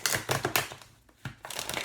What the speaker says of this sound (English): a little bit of free shuffling, cut the deck